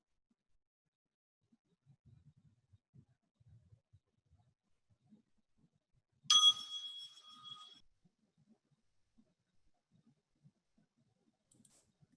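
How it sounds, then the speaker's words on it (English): A bell is rung once during a worship service, a bright struck ring that sustains and fades over about a second and a half amid an otherwise quiet room with faint small noises. "let's take a few minutes to breathe in the divinity of this hour, brought here to you, by you, while I ring a bell."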